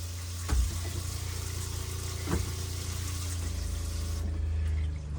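Water running steadily into an RV fresh water tank, a continuous close rush and hum with a couple of brief thumps, no talking.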